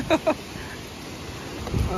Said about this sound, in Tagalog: Lakas ng hangin mga master. Tsaka yung ulan.